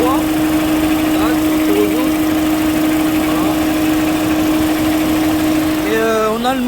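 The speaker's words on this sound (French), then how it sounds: "on a le moteur qui tourne droit" A petrol car engine idles smoothly and steadily after a faulty cylinder-2 ignition coil was replaced, a constant close hum with a faint rising whine near the end as a fan starts.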